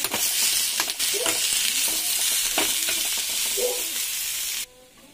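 Spoon stirring lemon juice into a cooked dish in a hot pan, with a steady close sizzle and scraping strokes until the sound cuts off near the end.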